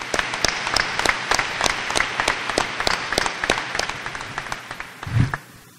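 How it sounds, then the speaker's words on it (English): Graduation audience breaks into sustained applause, a dense wash of many hands clapping that holds steady for several seconds before tapering off near the end. "Let's give them a round of applause."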